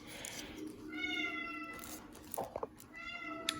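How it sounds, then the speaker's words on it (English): A house cat meows several times at close range, its drawn-out harmonic cries rising and falling in a quiet indoor room, with no talking. "there goes my cat"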